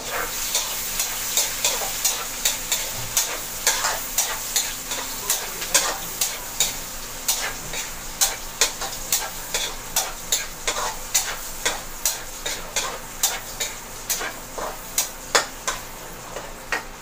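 Onion and garlic sauté in a pan, a steady frying sizzle broken by a regular train of sharp scraping clicks as a utensil stirs and taps the pan, close and continuous with no talk.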